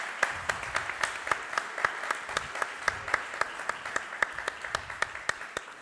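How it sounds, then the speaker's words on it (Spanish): An audience at a talk on coin history claps to welcome the speaker, sparse, fairly regular individual hand claps standing out over a soft room murmur, moderately close and steady throughout. "Les voy a pedir un fuerte aplauso para recibir esta tarde al protagonista de nuestra charla"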